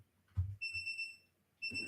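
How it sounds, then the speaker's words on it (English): A timer alarm beeps in steady high-pitched tones, sounding twice in quick succession against a faint background. "there goes a timer"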